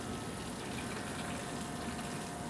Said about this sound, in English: Now this water goes out, sprays the ice and gets any dirt and debris up out of the cracks in the ice.